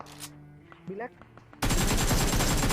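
Dense, loud burst of gunfire from the PUBG battle game erupts suddenly after a quieter stretch with a brief voice, continuing as a sustained rapid volley to the end.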